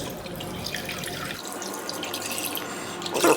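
Water runs continuously into a Thermomix mixing bowl while being measured for sandwich bread dough, a close, steady splashing and trickling stream with a brief louder splash at the end.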